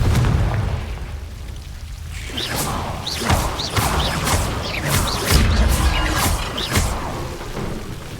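Repeated Confringo blasting-spell explosions in the Hogwarts Legacy video game, a series of sharp booming bursts with whooshing crackle, several close together over a low rumbling background.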